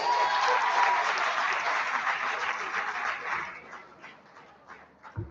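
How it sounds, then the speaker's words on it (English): An audience at a Rotary youth summit applauds guest speakers, a dense steady roar of clapping that thins out and fades over several seconds, with scattered last claps near the end. "A round of applause."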